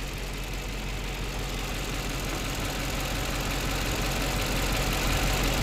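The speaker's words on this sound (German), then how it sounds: "laufender Motor" A Mercedes-AMG E63s engine runs steadily at idle, a constant low rumble with a dense hiss on top, close and unchanging throughout.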